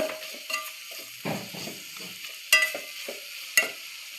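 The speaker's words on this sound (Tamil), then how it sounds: "அந்த மிளகாத்தூள் கொஞ்சம் பச்சை வாடை போகிற வரைக்கும் நம்ம வதக்கிக்கலாம் அந்த எண்ணெயிலேயே." Chili powder sautéed in oil in a pan while making a seer fish curry, with soft sizzling and a few scattered spoon scrapes and taps against the pan, close and fairly quiet.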